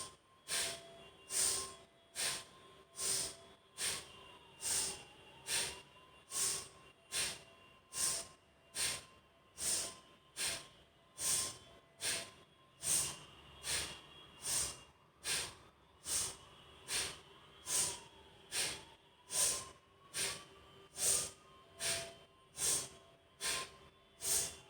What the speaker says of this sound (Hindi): let us do 15 strokes of breathing in and breathing out active bhastrika